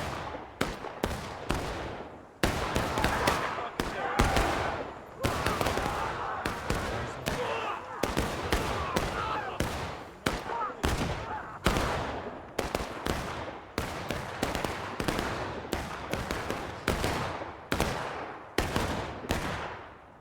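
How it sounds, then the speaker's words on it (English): Ragged, near-continuous musket gunfire in the War of Rights Civil War video game on the Reno's Fall map: dozens of sharp, loud reports crack at irregular intervals, some overlapping into brief volleys, with battle noise in between. "these guys are still sitting here shooting"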